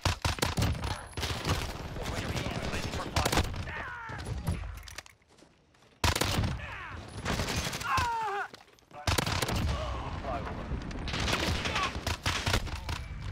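Bursts of Vector submachine gun fire in a Modern Warfare match, rapid close gunshots in repeated volleys with brief pauses, mixed with game effects and occasional voices.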